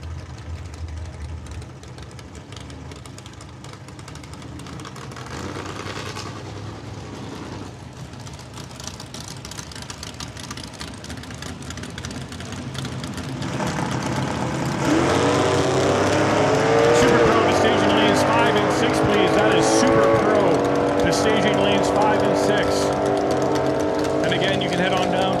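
A 1972 Dodge Challenger and an 1980s Camaro drag racing at a raceway test-and-tune event: a low engine rumble swells into a loud, roaring acceleration past the midpoint and holds steady, heard under a commentator's talk.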